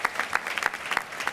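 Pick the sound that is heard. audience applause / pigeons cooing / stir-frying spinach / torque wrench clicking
audience applause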